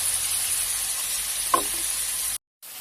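Chicken giblets stir-fried with holy basil sizzle steadily in a hot pan, a constant bright hiss with one brief scrape of the spatula before a short gap near the end.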